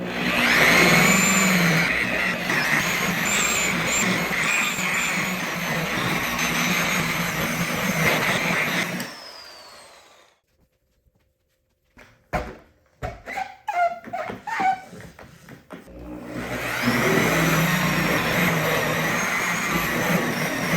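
A polisher buffing a car trunk with compound, a loud continuous motor whine and pad buzz that runs for several seconds, stops, gives way to brief clunks and handling noises, then starts up again.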